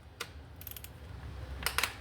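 Ratchet loosening intake manifold bolts on a 2017 Subaru Forester 2.5 FB engine during cylinder head removal; a few quick bursts of ratcheting clicks, one near the start, a cluster in the middle and another near the end, close and fairly clear.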